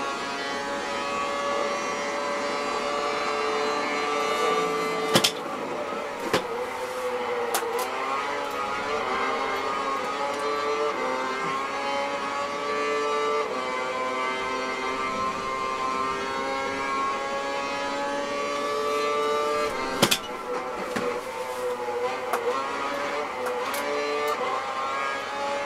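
Formula 1 cars race in the 2012 Formula 1 video game, a continuous high engine whine shifting pitch through gear changes, with a few sharp clicks over the steady drone.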